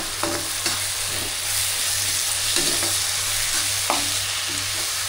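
Ginger garlic paste frying in a pan for a spicy crab gravy, a steady close sizzle with scattered stirring scrapes and clinks throughout, no voices.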